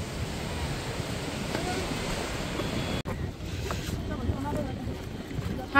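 Sea surf washing steadily at a shoreline near a temple in Murdeshwar, a continuous broadband wash of waves with wind buffeting the microphone, briefly cut off midway, then resuming slightly quieter.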